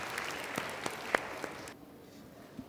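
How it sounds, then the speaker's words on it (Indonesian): Sparse applause from an audience at a motivational talk show, scattered individual claps at moderate distance that stop abruptly partway through, leaving quiet room tone. "Kita berikan tepuk tangan"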